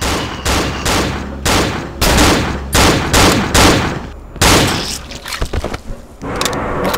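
Loud rapid gunfire from the horror video game Cry of Fear, with repeated close bursts of automatic shots separated by short gaps and a final scatter of single cracks.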